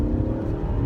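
A 2013 Ford Focus ST engine revs hard under acceleration, a loud, dense, steady engine roar heard from inside the car.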